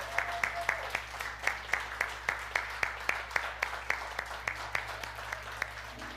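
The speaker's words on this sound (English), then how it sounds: "So let's clap for you two." A small indoor group claps steadily for class members, with even rhythmic claps that are moderately loud and not mixed with talk.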